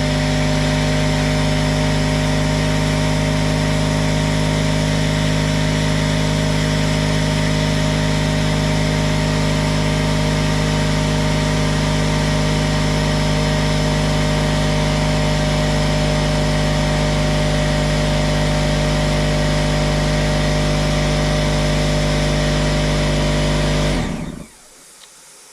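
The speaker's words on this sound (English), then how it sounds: "the air compressor kicked on" A shop air compressor runs loud and steady with a constant droning hum for about 24 seconds, then abruptly shuts off.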